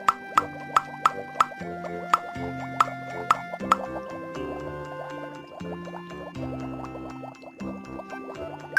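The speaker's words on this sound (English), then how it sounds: "Popping bubbles is so much fun" Several quick cartoon bubble pops in a Peppa Pig video game, bright plops in a fast run, then a few more spaced out, all over light background music.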